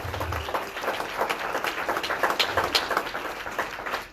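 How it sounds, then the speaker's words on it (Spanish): A church congregation claps during a worship service, a quiet, scattered patter of hands at some distance that swells slightly in the middle. "Dale ese fuerte aplauso al Rey."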